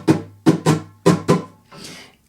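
Acoustic-style guitar strummed in a short four-beat bar pattern: five distinct chord strokes in uneven rhythm, the last letting ring and fade, played clearly and alone with no talking.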